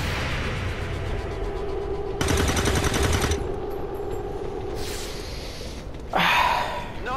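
Heavy gunfire in the video game XCOM 2: a loud rapid-fire burst lasting about a second, followed later by a shorter sharp blast, set against a quieter background.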